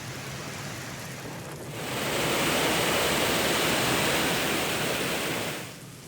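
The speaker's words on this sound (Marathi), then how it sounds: "धोपेश्वर धबधबा पूर्ण क्षमतेनं प्रवाहित झाल्यामुळे" The Dhopeshwar waterfall runs at full force after heavy rain, a dense roaring rush that swells to a loud steady peak and then eases slightly toward the end.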